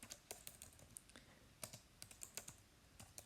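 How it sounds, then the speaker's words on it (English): Typing on a computer keyboard, quiet irregular key clicks in short bursts with brief pauses, close and alone. "And I can then start to type in there all my different headings."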